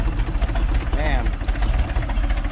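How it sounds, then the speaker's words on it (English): A Mercruiser boat engine, just fitted with a new starter, runs with a low, dense rumble after firing up, and a voice talks over it. "First try, fires right up."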